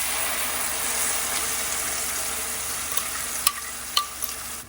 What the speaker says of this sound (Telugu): సో ఇది పచ్చి వాసన పోయిందాక మంచిగా ఫ్రై చేసేసుకోవాలి